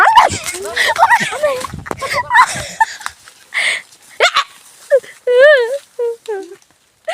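A puppy whimpers and yips in short, high, wavering cries near the end, after a stretch of people talking and laughing.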